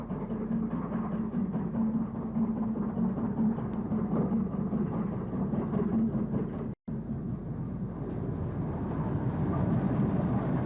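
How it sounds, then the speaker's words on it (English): King Henry VI steam locomotive pulls into Snow Hill Station, a steady low rumbling roar with a faint hum, continuous and fairly loud apart from a brief dropout midway, with no voices heard. "Here it is entering Snow Hill Station"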